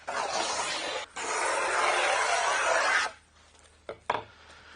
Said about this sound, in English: Now I'm just going to start my rebate, cut slightly inside of where I want to be.